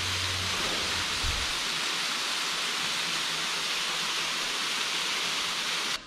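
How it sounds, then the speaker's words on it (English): Steady, loud rushing water from a roadside waterfall in Hainan pours continuously nearby, a broad roaring hiss with a low rumble fading early on. "Look at this waterfall."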